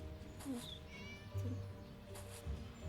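A cat in the video game Scary Teacher 3D meows a few times, quiet and thin, over a low background hum with faint game noise.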